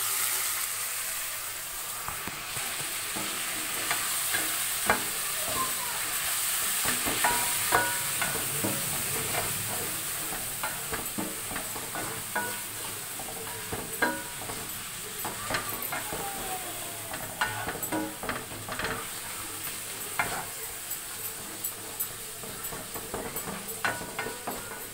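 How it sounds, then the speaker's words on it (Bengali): Chicken pieces for a chicken and potato dish sizzle steadily in a hot pan while being stirred, with a continuous frying hiss punctuated by scattered scrapes and clicks of the spoon, close and with no talking. "দিয়ে এর মধ্যে একটু কষিয়ে ডালা চাপা দিয়ে দেবো।"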